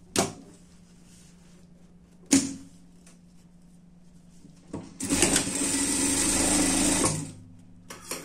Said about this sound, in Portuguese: vamos passar uma costura aqui